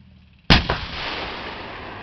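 A single massive boom from a Dutch Leopard tank's main gun during a shooting exercise, a sudden blast followed by a long rolling rumble that stays loud to the end.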